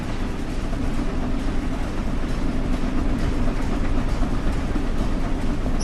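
Loud, steady roar and rattle inside the cab of the Flying Scotsman steam locomotive running at full throttle in Train Sim World, a dense continuous rumble with no let-up.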